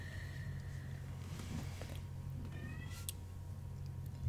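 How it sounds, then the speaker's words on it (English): A house cat meowing indoors, a few faint plaintive cries over a steady low hum of room noise, with no talk. "And now my cat is crying."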